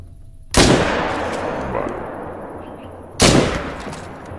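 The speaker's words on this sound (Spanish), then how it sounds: "Cogemos el 300, marcamos los dos animales y disparamos primero el león." Rifle shots at a lion in theHunter Call of the Wild, a video game hunt on the savanna: two loud, sharp gunshots a few seconds apart, each trailing off into a long rolling echo.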